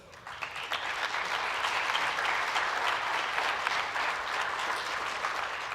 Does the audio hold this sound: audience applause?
yes